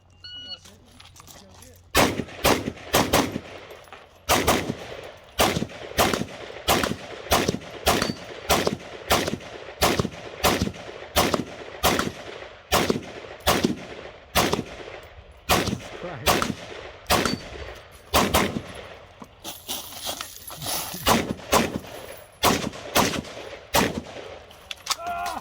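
Zastava ZPAP M70 AK rifle fired during a shooting match stage, loud sharp gunshots in irregular bursts and quick strings with brief pauses, close to the listener.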